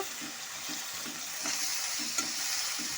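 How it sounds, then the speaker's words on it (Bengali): Cabbage with onion and garlic is stir-fried over medium heat, a close, steady sizzle broken by quick rhythmic scrapes of the spoon against the pan. "আঁচটাকে মিডিয়ামে দিয়ে ভালো মতো করে কষে নেব।"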